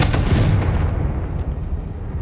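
A Confringo fire spell bursts in Hogwarts Legacy, a loud, close, booming blast that rolls away and fades over about two seconds.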